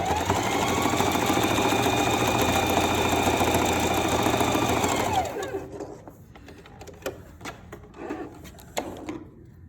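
Sewing machine running steadily for about five seconds while stitching over the crotch seam of a one-piece outfit, a close, even mechanical whir, then stopping, followed by fabric rustling and handling clicks.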